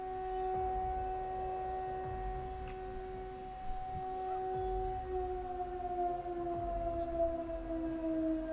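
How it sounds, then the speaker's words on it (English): A tornado siren wailing in the distance, a steady sustained tone that slowly sags in pitch, heard alone over faint background rumble. "Is that a tornado siren?"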